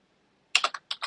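Several quick keystrokes on a computer keyboard, close and crisp, tapping out a short word in an irregular rhythm after a moment of silence, with no voices.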